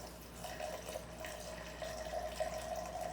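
Gin being poured into a cocktail over ice, heard close and faint as a soft, steady trickle of liquid running for a few seconds, with no voices.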